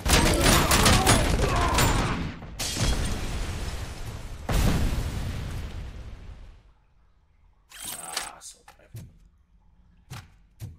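Shotgun and pistol gunfire in a video game: heavy booming blasts with long decaying tails early, then a quieter gap followed by a few sharp isolated pistol shots, loud and close.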